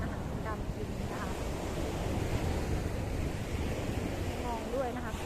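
Strong wind buffets the microphone at a sunny beach while sea waves wash and roar continuously close by, with faint gull cries rising briefly over the steady noise.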